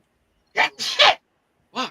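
A person sneezes once, loud and close, in a short sharp burst, followed by a muttered reaction from the same voice.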